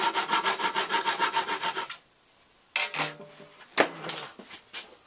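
Hand-sawing wood for the neck of an acoustic kirar: a fast, even run of rasping saw strokes, a short pause, then a few slower, irregular strokes, close and loud.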